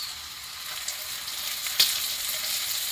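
Spaghetti sauce hits a hot pan and sizzles steadily, a loud continuous frying hiss with a small clink partway through and no talking.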